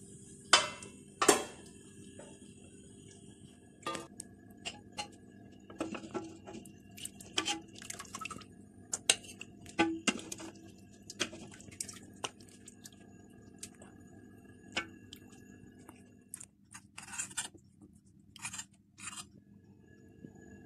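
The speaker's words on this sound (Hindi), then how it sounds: "अब मैं इसको डिश आउट करती हूँ।" Soft, tender beef paya served out of a cooking pot, with scattered ladle and spoon clinks against metal and dishes, some wet drips and scrapes, intermittent and fairly close, no voices.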